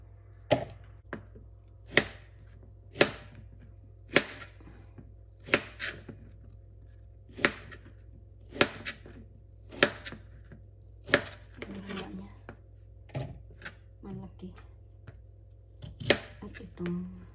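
A knife slices through onion on a cutting board while preparing juicy roast chicken, with sharp, close chops falling roughly once a second in an even rhythm, and faint talk in the background.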